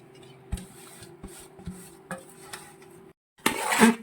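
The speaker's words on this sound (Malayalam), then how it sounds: "ഇനി ഇത് നമ്മൾ നന്നായിട്ട് ഇത് തമ്മിൽ നന്നായിട്ട് മിക്സ് ചെയ്യണം" Cooked tapioca being mixed with grated coconut in a pot, with a spoon scraping and knocking against the metal in irregular strokes and a louder burst of rough stirring at the end.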